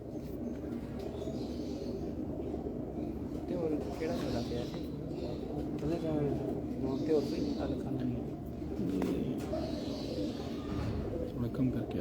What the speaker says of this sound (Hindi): देखें जी कबूतर आया।